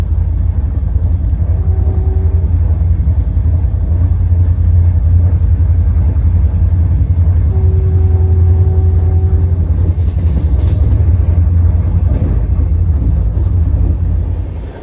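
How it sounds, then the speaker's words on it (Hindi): Dibrugarh Rajdhani Express (20504) speeding past Alubari Road Junction, heard from inside a 2AC coach: a steady, loud low rumble of the running train with a faint tonal whine drifting in and out, no talk. "फिलहाल हमारी गाड़ी ज़बरदस्त रफ्तार में अलुआबाड़ी रोड जंक्शन को स्किप कर रही है।"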